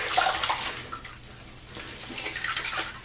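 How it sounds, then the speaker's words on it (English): Running tap water splashing as a razor is rinsed during a shave, close and moderately quiet, in uneven gushes over a few seconds. "So, just rinsing off here."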